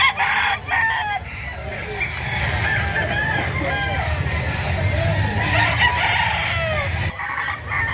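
Roosters crow repeatedly over a busy background of clucking chickens at a chicken market in Lipa, Batangas, with some faint voices mixed in.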